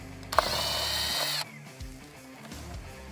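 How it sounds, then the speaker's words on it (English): A power tool with a deep well socket spins out a 7mm screw from the center of a 2021+ Ford F150 grille emblem, a loud high whir for about a second, followed by quieter clicking and handling sounds. "There's a 7mm screw right in the center, and I'm gonna use this deep well socket to remove it."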